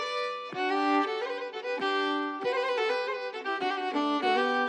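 A violin plays a short melody of separate bowed notes, clear and close, with no other sounds.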